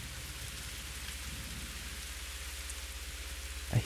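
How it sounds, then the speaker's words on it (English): Rain falls steadily outside in a video game scene, a constant soft patter and hiss with a low rumble underneath and a brief dull thump at the very end. "It's raining outside."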